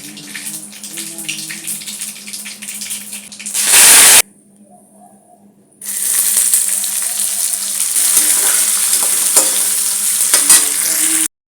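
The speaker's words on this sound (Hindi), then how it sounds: "दोस्तों प्याज टमाटर डाल करके भी अच्छे से भून लिया है।" Onion and tomato frying in hot mustard oil for a sambar tadka, a loud close sizzle and crackle with a brief harsh spitting flare, then a quiet gap before the steady frying resumes.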